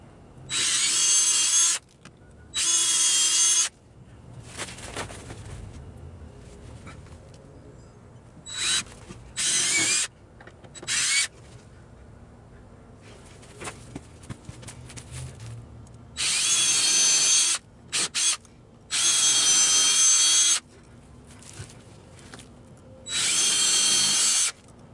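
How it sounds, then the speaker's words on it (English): A power drill bores pilot holes for lag bolts into a wooden workbench top, several loud whining bursts of a few seconds each separated by quieter handling noises and pauses. "alright, so let's start drilling."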